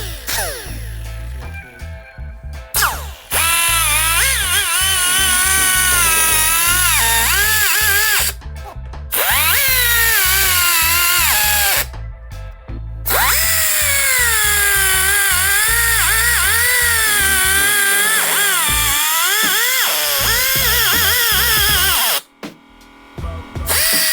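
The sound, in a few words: power tool cutting into Lexus engine cover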